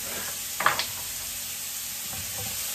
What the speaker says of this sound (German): Und jetzt lassen wir das Ganze so ein bisschen anbraten